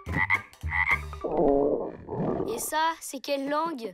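A cartoon character imitates a frog, giving croaky, warbling calls in an animated episode, sounding between spoken lines.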